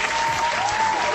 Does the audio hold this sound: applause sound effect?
yes